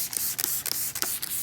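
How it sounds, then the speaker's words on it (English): A small spray bottle of waterless wash fires several quick, close hissing spritzes onto a motorcycle in an uneven rhythm, with short pauses between bursts and no voices. "just spray it on."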